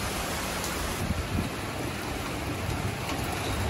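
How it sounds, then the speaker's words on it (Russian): Heavy rain pours steadily during a thunderstorm in Germany, a dense hiss that goes on without a break, with a low rumble of thunder rolling under it at moderate distance and no voices. "Молния и гром."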